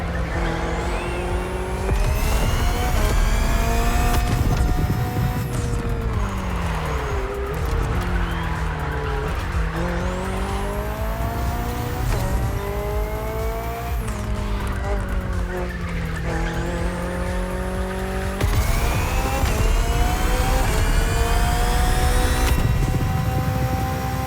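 A BMW hybrid V8 race car in The Crew Motorfest racing game screams through its gears, with rising and falling engine whines, shifts and tire squeal, loud and continuous, joined at times by other cars.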